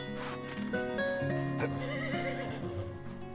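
A horse neighs in the farming video game Story of Seasons, a short whinny over steady game music and chimes.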